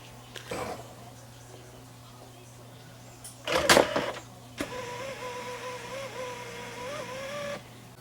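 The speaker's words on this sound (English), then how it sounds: "There goes the disc back." Inside a Sony DVP-CX870D 300-disc CD/DVD changer, the mechanism moves a disc with a sharp mechanical clatter, then a sustained motorized whir with a faint background hum.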